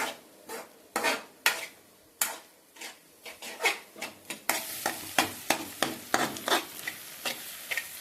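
A spoon stirs food in a pan over a high flame, scraping and clattering in quick, uneven strokes close up while a soft sizzle runs underneath, growing busier and more frequent toward the end, with no talking.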